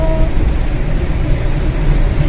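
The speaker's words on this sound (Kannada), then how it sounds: "ಸಿಕ್ಕಾಪಟ್ಟೆ ಮಳೆ ಇಲ್ಲಿ" Heavy rain pours down steadily in an outdoor setting during a downpour, a dense continuous wash of noise with a low rumble beneath, loud and close throughout.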